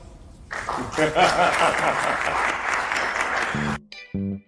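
A live podcast audience at a SIOP conference bursts into applause for nerdery fans, a loud wash of clapping that swells and then cuts off abruptly, followed by a brief voice.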